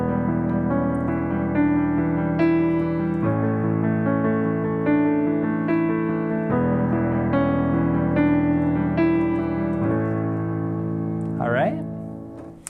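Solo piano plays the second pre-chorus of a song as a flowing chordal accompaniment with sustained bass notes, close and steady, ending on a quick rising flourish.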